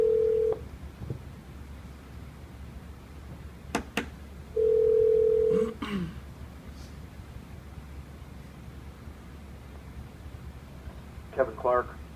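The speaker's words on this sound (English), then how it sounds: "let's get him on the phone here" A telephone line plays a steady dial tone, briefly at first and then again for about a second, followed later by a quick burst of touch-tone dialing to reach a guest, with faint background noise in between.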